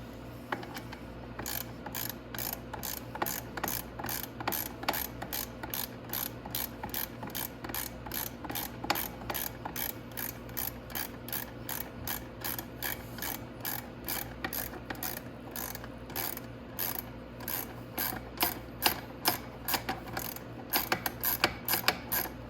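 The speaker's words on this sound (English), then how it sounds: "Now I could use my socket probably." A socket ratchet clicks in rapid, steady bursts while loosening exhaust bolts on a 250cc Venom X22GT, the quiet close pawl ticking running nearly continuously with brief pauses and no talk.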